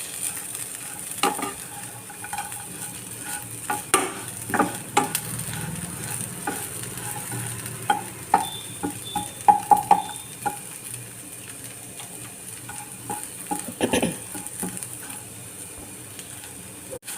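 Curry leaves sizzle steadily in oil in a pan for baby corn pepper fry, with intermittent stirring scrapes and light clinks of a utensil against metal, close up, no voices.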